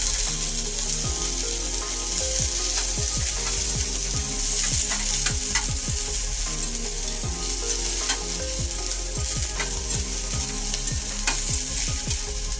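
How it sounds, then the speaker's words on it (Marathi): Vegetables frying in a pan while being made into a wheat-flour pizza topping, with a steady broadband sizzle and repeated clinks and scrapes of stirring throughout, close and continuous with no talking. "चला तर मग या भाज्या थोड्याशा फ्राय करून घेऊया"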